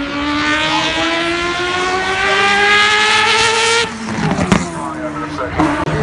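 The 36 race car at the Goodwood Festival of Speed, still caked in dirt from France, roars past with a loud, sustained engine drone that climbs in pitch and then breaks off into rougher noise and brief bangs as it goes.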